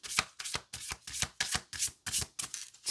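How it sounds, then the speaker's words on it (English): A deck of tarot cards is shuffled repeatedly, each riffle giving a crisp rapid flutter of card edges, about eight quick bursts in an even rhythm, close and moderately quiet with no talking. "We'll do 3 shuffles."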